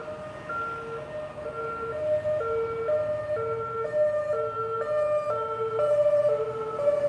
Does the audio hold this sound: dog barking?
no